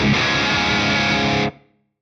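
A heavily distorted electric guitar chord through a Mesa Boogie-style USA 2C++ amp model on a Fractal FM3 rings out loud for about a second and a half, then cuts off abruptly.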